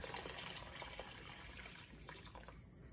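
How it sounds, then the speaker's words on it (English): Water runs steadily from a tap into a pot holding a bag of bones for stock, a faint continuous splashing rush that eases slightly toward the end. "We're gonna fill it with water."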